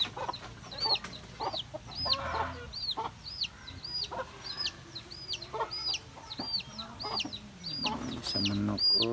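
Many chickens cluck and chatter repeatedly, with sharp high calls in a busy, uneven rhythm, fairly close, over a rough background noise.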